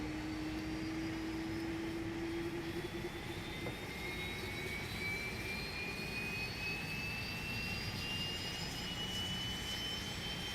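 An Airbus A319 jet engine in a flight simulator sound pack, a steady, continuous roar with a high whine that slowly climbs in pitch as the engine spools up, heard alone.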